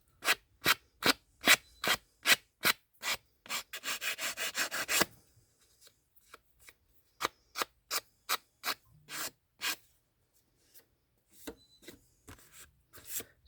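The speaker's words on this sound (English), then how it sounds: "So I just sanded that off." Glue is sanded off a resin stamp by hand in steady, rhythmic rubbing strokes, close and clear, with a quick flurry of short strokes midway, then slower, spaced strokes with brief pauses.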